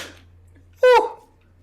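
A single quick sneeze from a StarCraft 2 commentator, loud and close to the microphone after a near-silent pause.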